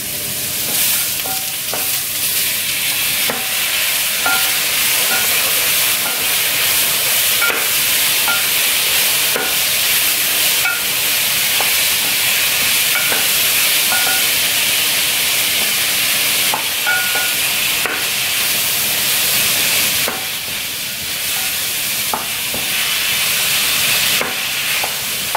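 Tomato sautés in a pot for sinigang na bangus, a loud continuous sizzle and steamy hiss with intermittent stirring clicks and taps, close and unbroken by voices.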